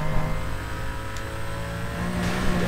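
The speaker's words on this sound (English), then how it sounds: "You can hear her engine in the back." A race car engine in Need for Speed: Most Wanted drones and revs steadily at moderate volume, a continuous motor hum with a couple of brief higher whines.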